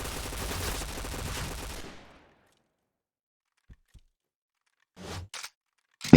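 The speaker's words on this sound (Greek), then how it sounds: "Οι σφαίρες η μία πίσω από την άλλη πέφτουνε." Rapid automatic gunfire with no recoil in a video game, a dense burst for about two seconds, then silence broken by a couple of faint clicks and short later bursts.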